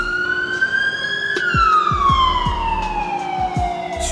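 An ambulance siren passes, its loud wailing tone rising and then falling in pitch as it goes by, over rumbling road noise.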